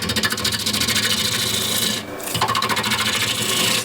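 A half-inch bowl gouge cuts straight into the rim of a wooden bowl spinning on a lathe at nearly 900 RPM. It makes a loud, steady rasping scrape with a rapid rhythmic flutter and a brief dip partway through.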